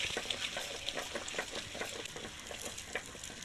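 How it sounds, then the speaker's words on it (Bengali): Eggs frying one after another in a pan for an egg curry, a soft continuous sizzle with quick, irregular clinks and scrapes of a utensil stirring throughout. "একে একে এইভাবে সবগুলো ভেজে নেব"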